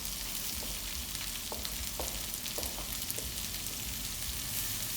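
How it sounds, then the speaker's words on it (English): Onions sizzling and crackling in a hot skillet, a steady frying hiss with occasional pops and stirring sounds. "You want to let that sizzle and get brown."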